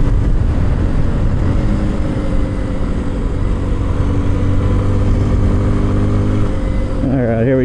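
A 2026 Kawasaki KLX 230 Sherpa S motorcycle being ridden, its engine droning steadily and loud throughout with wind noise, a shift in pitch near the end, and no speech.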